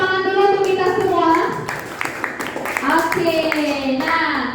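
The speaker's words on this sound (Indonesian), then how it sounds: "Kita berikan tepuk tangan dulu untuk kita semua." A junior high school class in Jakarta claps together, a short burst of hand claps mixed under children's and a teacher's voices.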